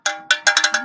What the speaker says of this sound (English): Cowbell.